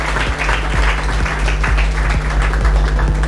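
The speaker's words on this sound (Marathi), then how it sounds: "तेव्हा सर्वांनी टाळ्या वाजवून" Steady, dense applause from an audience clapping for a class 10 topper at a coaching-class results event in Amravati, continuous throughout with no talking.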